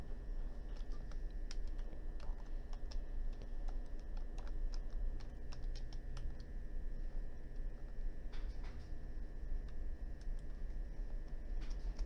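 Steady keystrokes on a computer keyboard as text is entered, a continuous run of light clicks at close range over a low background hum, with no talking.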